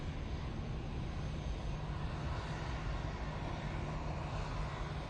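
An Aer Lingus A320ceo from Dublin lands at Manchester Airport, giving a steady, dense engine roar with a low hum that stays close and fairly loud throughout the short stretch, with no voices.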